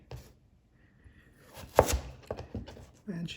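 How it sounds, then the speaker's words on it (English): A chef knife cuts a sweet potato in two. A single firm thunk of the blade on the board is surrounded by quieter handling knocks, heard close with faint voice sounds mixed in. "Now, chef knife, cut it in two."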